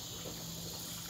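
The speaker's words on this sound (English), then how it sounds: "It's really crazy that I'm pouring gas in this car right now." Gasoline pours into the fuel tank of a 1977 Camaro, a steady, faint rushing and gushing of liquid that is unbroken for about a second.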